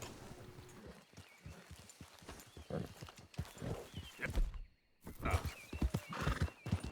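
Horse hooves clop and a horse neighs loudly in the video game Red Dead Redemption 2, with irregular hoofbeats throughout, a short silence midway, then more hoof activity.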